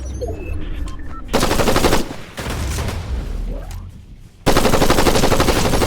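Fortnite gunfire in bursts: sustained loud automatic fire in long blocks, broken by short pauses and quieter stretches, close and dominant, with no talk.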